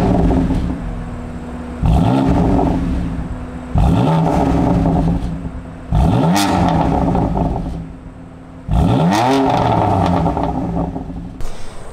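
A BMW F80 M3 CS engine revs in sport mode, four sharp loud blips that each rise and fall away between short idle pauses, close and aggressive, with no voices.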